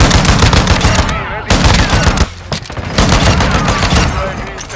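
Rapid, loud gunfire from a shotgun in the fast-paced shooter game Mullet Mad Jack, blasts crowding one another over dense game effects and music, with a short lull in the middle.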